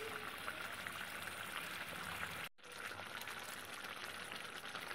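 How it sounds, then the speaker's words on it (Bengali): Oil koi fish curry bubbling in a pan on the stove, a steady close hiss and simmer that runs continuously, broken by one very short gap near the middle. "এবার শুধু ফুটবে।"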